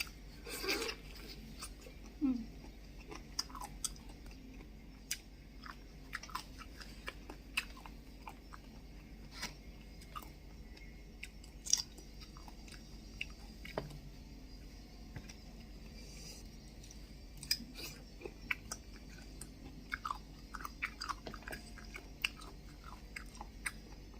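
Crunchy cuttlefish in a spicy Thai seafood salad with sweet snails and oysters is chewed close to the microphone, with quiet, steady, crisp crunches and bites repeating throughout and no one talking.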